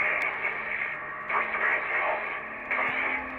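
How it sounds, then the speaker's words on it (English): Crackling radio static from The Long Dark video game hisses steadily, with bursts of garbled, gibberish-like transmission swelling in and out over the noise. "the radio came to life. Just lit up. Started spitting out noise, but it was all gibberish"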